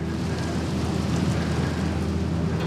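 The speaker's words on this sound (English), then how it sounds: "The wind's blowing and it's got driving 45-degree rain." Heavy wind-driven rain lashes a beach on a freezing Christmas morning, a steady dense roar with low gusting rumble, continuous and close throughout.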